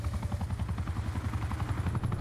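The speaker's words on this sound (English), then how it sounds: "My chopper's up." A helicopter scorestreak in Black Ops 4 gameplay gives a steady, rhythmic rotor thump that stays moderately loud and continuous throughout.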